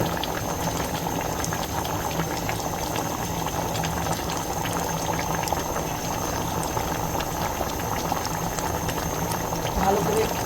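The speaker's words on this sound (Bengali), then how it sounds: "প্রেশার কুকারে গরুর মাংস বসায় দিলাম আলু দিয়ে" Beef and potatoes boiling in a pressure cooker, a steady close bubbling and simmering hiss that stays even throughout.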